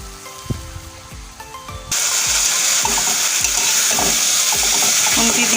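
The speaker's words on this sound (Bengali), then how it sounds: "একটু চিনি, সামান্য একটু জল দেবো। মশলাটাকে ভালো করে কষে দেবো।" Spice paste with sugar and a little water sizzles and fries loudly in a pan, with steady scraping stirs of a spatula, the frying hiss jumping up sharply as the water goes in.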